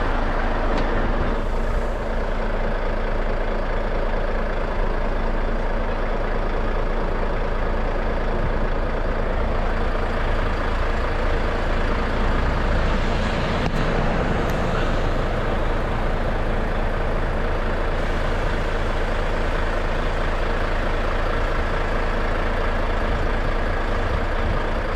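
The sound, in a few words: HGV truck reversing to couple up to a trailer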